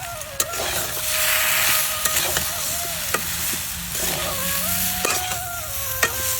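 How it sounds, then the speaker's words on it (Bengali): Spices with turmeric sauté in a hot wok, giving a steady close sizzle and frying hiss broken by a few sharp scrapes and taps of a stirring spoon. "আমার হলুদ দিয়েও আর একটু কষানো হয়ে গেছে"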